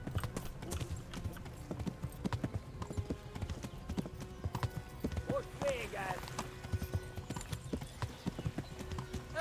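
Galloping horse hooves in Kingdom Come: Deliverance beat in a quick, steady rhythm up close, with a brief whinny partway through and game voices speaking over the hoofbeats.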